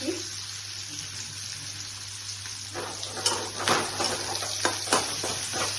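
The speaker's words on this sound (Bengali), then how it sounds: "পেঁয়াজটা এইভাবে ফ্রাই করে নিচ্ছি" Chopped onion frying in a pan for a Bengali chola dal curry, a steady low sizzle with scattered stirring scrapes and clatters growing busier toward the end, close by with no talking.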